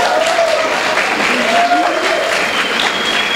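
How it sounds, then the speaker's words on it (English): An audience applauds arriving school groups at a 2015 panel discussion, a steady, dense wash of clapping from many hands filling the whole stretch, with a voice faintly audible underneath. "Give them a big round of applause"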